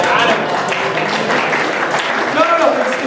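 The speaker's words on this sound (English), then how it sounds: "you clapped a little early there" An audience at a magic demonstration bursts into steady, close applause, a dense patter of clapping hands with voices audible within it.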